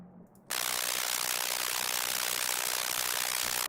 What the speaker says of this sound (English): heavy distorted noise, which sounds like this.